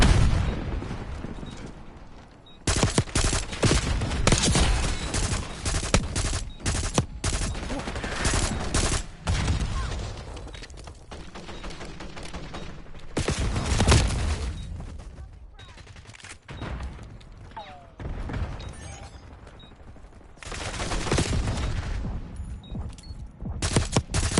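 Loud, dense gunfire and booming grenade explosions from a Call of Duty: Black Ops 6 match during a bomb-planting push, with bursts and blasts recurring throughout and brief lulls between them.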